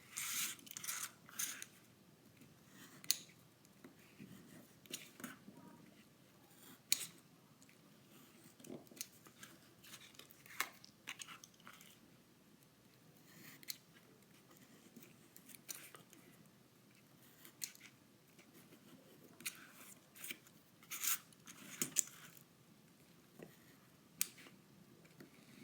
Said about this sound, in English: let's go ahead and cut our windows out of here